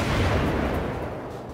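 A deep, booming salvo of naval guns from World of Warships rolls out loud and close, its low rumble fading slowly over a second and a half.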